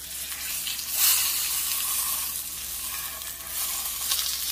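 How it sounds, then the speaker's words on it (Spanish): Pork loin searing in a pressure cooker, a steady bright sizzle with slight swells, close and continuous with no talk. "esperaremos a que selle, a que se dore perfectamente por todos los lados"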